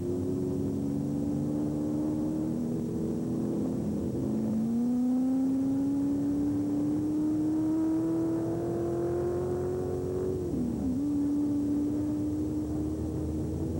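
Can-Am sports racing cars from the 1966 season, including a Lola, run through a set of S-bends, with one steady engine note that rises, dips sharply and settles again, heard at moderate distance over constant crowd and track noise.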